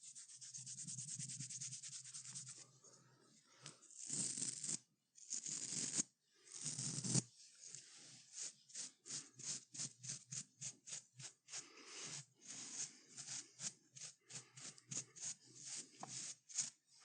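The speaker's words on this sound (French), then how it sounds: "Un petit coup de brosse." Brush strokes drawn through a clean beard during a barber roleplay, first a few longer sweeps with pauses, then a rapid run of short, crisp, rhythmic bristle swipes, close up and soft.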